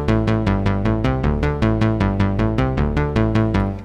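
Scene one of a pattern plays back on a Carbon sequencer: a steady, fast run of evenly spaced synth notes with bass underneath, loud and continuous with no talking.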